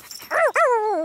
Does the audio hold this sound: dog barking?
yes